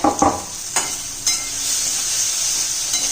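Onion browned in a pan with half a tomato just added for green moong usal, frying with a steady high hiss after a few sharp stirring clatters near the start.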